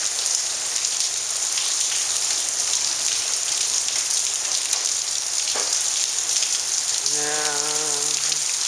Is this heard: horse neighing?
no